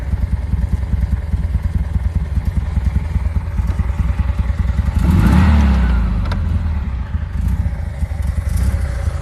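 A Bugatti T35 replica's engine runs steadily while driving near Windermere on a hot morning, a low continuous drone that swells louder around the middle before settling back to an even rumble.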